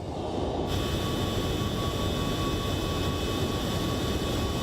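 In the X-Plane 12 flight simulator, a Rotate MD-11F cargo jet drones at cruise altitude with a constant, loud, broadband engine roar and a thin steady whine on top, unchanging throughout, with no voices.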